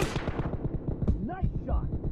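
Gunfire in a team-based shooter video game, a rapid run of close, punchy shots over a busy game soundscape, with a few louder cracks and whooshing effects near the end.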